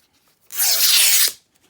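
Fabric or paper being cut or torn during a sorting session, a single rough ripping burst of under a second, close and fairly loud, with quiet surroundings before and after.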